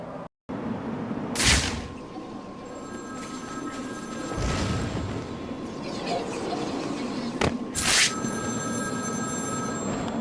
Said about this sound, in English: Zsasz calling for Batman. Find my phone or I'll bleed this piggy.